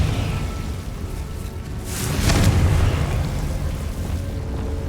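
A Confringo spell explosion in the video game Hogwarts Legacy, a loud booming burst with a rushing whoosh that swells midway and then rumbles on at a steady level.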